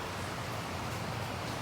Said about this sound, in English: You'll have to excuse the rain noises.